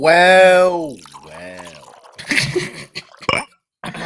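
A drink splashes and trickles into a glass, with small clinks and drips partway through, preceded by a short hummed voice; the pouring is close and moderately quiet.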